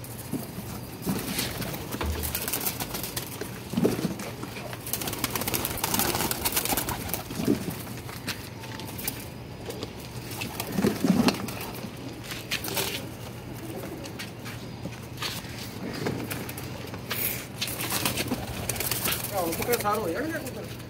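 Soft pigeon coos recur intermittently amid rustling, fluttering movement as pigeons are put into a box, with a steady low hum and a voice murmuring faintly in the background.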